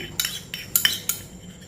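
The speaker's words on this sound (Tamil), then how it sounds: "எல்லாத்தையும் நல்லா மிக்ஸ் பண்ணிக்கிடுவோம்." Spoon clinks and scrapes against a bowl while onion is mixed with tomato sauce and chilli flakes, a few sharp metallic taps in quick irregular succession, close and fairly quiet.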